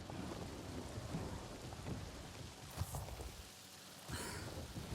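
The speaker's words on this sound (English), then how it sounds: "If I fly here, rain starting up again." Rain beginning to fall in the clouded forest of Pandora in a video game, a steady hiss of rainfall with soft rumbles underneath and a couple of brief louder gusts, no voices.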